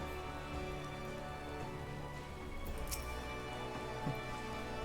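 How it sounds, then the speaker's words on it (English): Steady, faint rain falling in the Final Fantasy XIV video game, an even wash of patter with no talk over it. "Rain."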